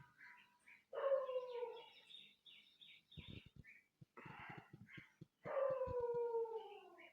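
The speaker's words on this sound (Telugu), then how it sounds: "ఇది మా కుక్క పిల్ల వస్తూ ఉంది దాని దగ్గరికి." A puppy howling and whining near a sand boa snake outdoors, drawn-out wavering cries in two bursts separated by quieter yips and scuffling, close and fairly loud, with faint bird chirps in the background.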